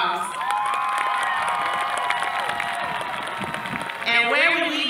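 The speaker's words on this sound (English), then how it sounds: "Graduates, please give your parents, family, and friends a great big round of applause." A crowd at a high school graduation ceremony cheers and applauds, with whoops and shouts over steady clapping that swells louder near the end.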